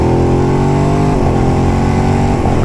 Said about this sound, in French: Petite accélération.